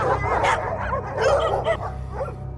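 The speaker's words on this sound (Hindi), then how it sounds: "दूर कहीं कुत्ते भौंक रहे थे।" Dogs barking and yipping at night in a quiet setting, a steady cluster of overlapping barks and whimpers that sounds somewhat distant and continues throughout.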